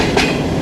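A 4.5 rail car train rolls past at Margalla Railway Station near Rawalpindi, a brief, dense rumble of wheels on track with a short brighter burst of rattle in the middle.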